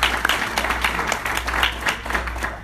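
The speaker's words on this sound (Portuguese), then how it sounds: "Aplauda o Senhor mais forte" A church congregation applauding together, a dense steady wash of many hands clapping, loud and sustained throughout with no voices rising above it.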